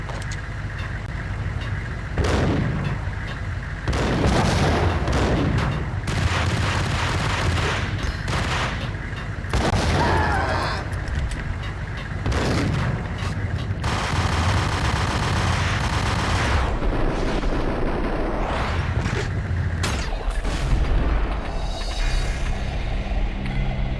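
Max Payne gameplay on PS5/PS2 delivers dense bursts of automatic gunfire and heavy blasts in a firefight that includes a Molotov, loud and nearly continuous with brief gaps, and no voices.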